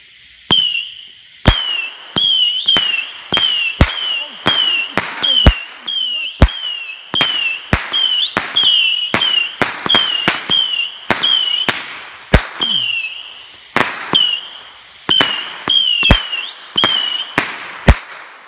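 Fireworks set off outdoors for a July 4 celebration, a long run of loud, sharp cracking bursts and whistling pops in rapid irregular succession, close by, with little or no talking.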